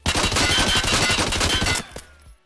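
A rapid automatic burst from an SP5 rifle in Escape From Tarkov rattles out loud and continuous for nearly two seconds, then stops abruptly and its echo fades away.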